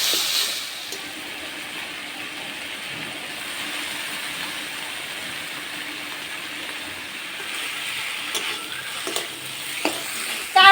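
Chopped garlic hits hot oil in a pan with a browned fish head and tomato, giving a steady close sizzle with occasional stirring scrapes and a few sharper spatters near the end.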